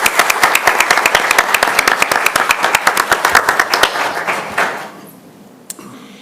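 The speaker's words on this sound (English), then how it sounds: "Please give her a round of applause as she comes up" A round of applause at a city council business meeting, sharp distinct claps in a quick rhythm from a nearby small group, fading out after about four seconds into quiet room noise with a stray knock.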